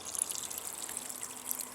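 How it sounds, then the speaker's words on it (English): A small garden waterfall gives a soft, continuous trickle of water, faint and steady with a light hiss and no voices. "There's the little waterfall."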